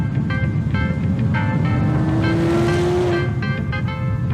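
A Chevrolet Corvette Z06 sports car (C8 generation) with a 5.5-liter V8 drives by, a loud, close engine roar with a rising tone near the middle before easing off.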